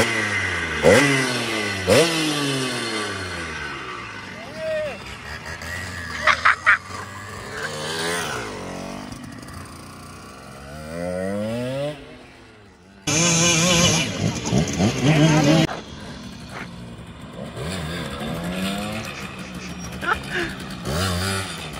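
Simson mopeds revving hard at full throttle, two-stroke engines repeatedly rising and falling in pitch, close and loud, with one short pause before they howl up again while voices shout over them.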